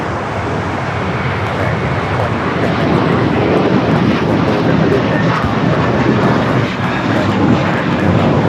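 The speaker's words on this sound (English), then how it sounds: "That is American Airlines Flight 4 taking off to JFK on the A321." An American Airlines Airbus A321 jet takes off from LAX, a loud, steady broadband engine roar that holds near and constant throughout without a break.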